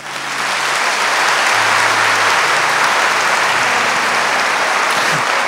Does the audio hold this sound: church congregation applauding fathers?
yes